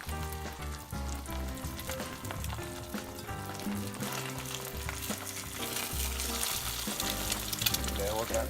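Food sizzling and frying in a 1968 Birmingham Stove & Range cast iron skillet, a steady crackling hiss running throughout with occasional stirring and scraping sounds, no talk.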